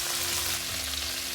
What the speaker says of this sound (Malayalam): ഷ്രിമ്പ് എണ്ണയിലിട്ടിട്ട് 2 മിനിറ്റ് കഴിഞ്ഞു.